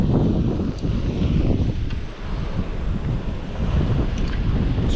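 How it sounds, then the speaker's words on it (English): Waves break on a reef at night at the shore, a steady rough surf wash with gusts of wind buffeting the microphone throughout, no voices. "In front of me you can probably hear the waves breaking"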